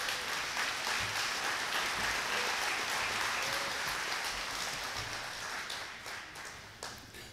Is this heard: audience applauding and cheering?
yes